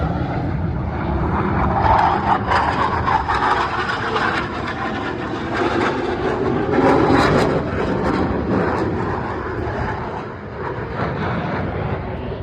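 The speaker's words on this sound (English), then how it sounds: "As the boss brings the diamond formation down the runway, they will separate slightly. Each pilot is going to roll his Super Hornet 360 degrees." Super Hornet jets in a diamond formation at an air show roar past in a loud, sustained, rumbling jet noise that swells and eases over several seconds.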